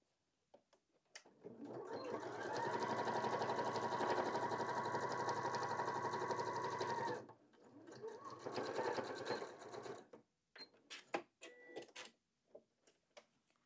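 A sewing machine stitches a green fabric pocket on a cloth crochet organizer basket. It runs in one long steady burst, then a shorter one, followed by scattered clicks and handling sounds nearby.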